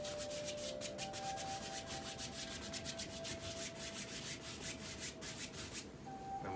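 Brush strokes of midnight black oil paint sweep across canvas in a steady run of soft, rhythmic scratchy swipes, close and fairly loud, with no talking.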